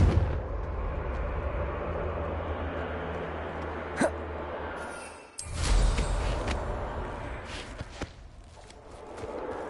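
A Confringo explosion spell goes off in Hogwarts Legacy: a sharp crack, a brief dip, then a heavy booming blast with scattered follow-up impacts over a low game rumble.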